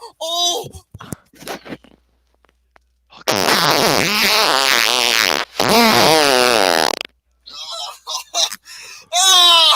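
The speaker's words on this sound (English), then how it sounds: "that fart could liquefy a pumpkin pie" Several long, loud, wavering farts blast out in succession, each lasting a couple of seconds, with short bursts of excited voices and laughter in between.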